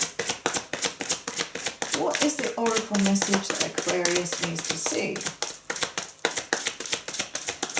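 Oracle cards being shuffled by hand during a reading, a steady stream of crisp papery clicks and flicks running throughout while a person speaks over them.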